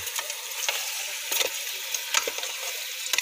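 Meat fries in its own rendered fat with no added oil, giving a steady, quiet sizzle broken by scattered crackles and pops.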